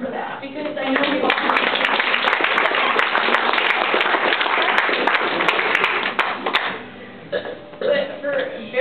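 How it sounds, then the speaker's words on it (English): Wedding toast guests give the couple a round of applause, a dense wash of clapping that swells and holds for several seconds, then thins out into scattered claps near the end. "round of applause for that"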